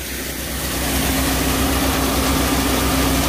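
Princess Auto Power Fist 13 hp engine driving a 6-inch by 30 grain auger, a steady loud mechanical drone with a low throb and a constant whine, running continuously up close with no voices.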